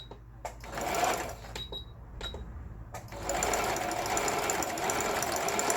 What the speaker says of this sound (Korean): 각종 스티치들 정상 작동되고 있습니다. 오버록 스티치